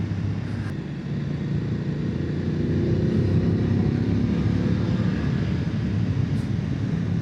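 A BMW F800GS motorcycle being ridden in dynamic throttle mode: a continuous low engine drone mixed with heavy wind rush, loud and steady throughout, with no speech over it.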